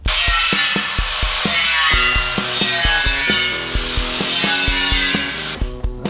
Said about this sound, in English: Try your wire wheel.